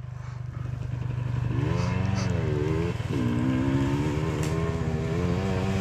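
Motorcycle engine revving on a dark mountain descent in the Balkan range, a close, loud, throbbing engine rising in pitch twice over steady rumble.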